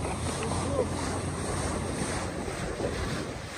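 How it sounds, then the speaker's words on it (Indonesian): Waves rise and slap around a small boat on the Tutong River in Brunei, heard as a steady, close wash of water mixed with rushing wind across the microphone. "Ini ombaknya udah mulai besar nih."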